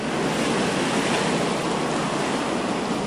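Surf washing onto the shore of Jiazuo Bay, a continuous broad roar of breaking sea waves close by, steady and unbroken, with some wind buffeting and no one speaking.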